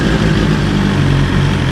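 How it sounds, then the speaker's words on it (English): A 2023 BMW S1000XR motorcycle engine runs loud and close with a steady, dense roar, held without pause through the moment, with no voices. "let's give it a little rev for you guys"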